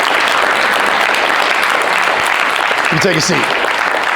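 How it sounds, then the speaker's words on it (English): A seminar audience applauds two women with loud, dense, sustained clapping, and someone briefly speaks over it near the end. "Give these two ladies a huge round of applause."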